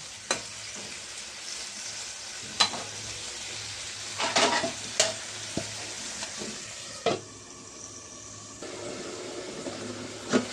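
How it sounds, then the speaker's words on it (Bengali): Dried fish curry stirred in a pan over a low sizzle, with sharp intermittent scrapes and clinks of a utensil against the metal, close by and without speech. "ভালো করে একটু নাড়াচাড়া করে ঢেকে দিতেছি"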